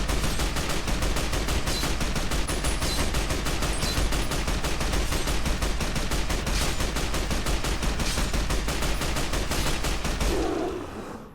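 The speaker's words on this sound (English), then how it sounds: "I think that worked about as well as normal rounds." Rapid, continuous automatic gunfire in Fallout: New Vegas as surplus rounds are fired, a loud dense stream of shots that goes on without a break and then cuts off abruptly at the end.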